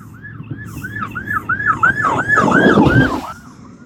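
A rapid wailing ambulance siren sweeps repeatedly, growing louder as the vehicle approaches with road rumble, then cutting off abruptly.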